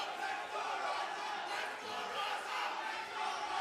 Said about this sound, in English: The crowd is electric tonight